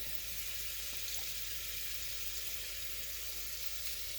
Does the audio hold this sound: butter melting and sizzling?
yes